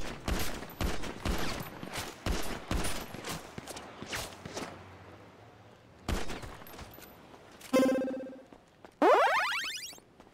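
Rapid gunfire from a Prodigy 2.0 2v2 arena video game comes in dense repeated bursts, then a brief lull and another volley. Sweeping electronic game tones and a rising chirp close it out, with nobody speaking.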